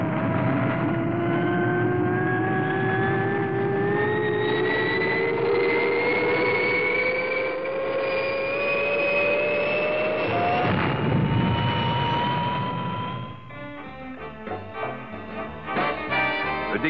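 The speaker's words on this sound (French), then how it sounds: "Le décollage est parfait." The XL5 rocket lifting off at full power roars steadily with a rising, whining jet-like tone that climbs in pitch, then gives way near the end to a fluttering, pulsing sound.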